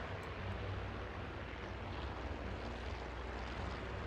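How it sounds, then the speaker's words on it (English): Japanese aircraft engines in a Task Force Admiral carrier-battle video game sound as a dense, steady droning roar of propeller planes, continuous and fairly loud throughout with no talking. "Uh-oh, I see Japanese planes."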